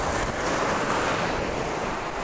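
North Sea surf breaking on Happisburgh beach on the East Coast, a steady broadband wash of waves with wind buffeting the microphone, continuous and fairly loud, no voices.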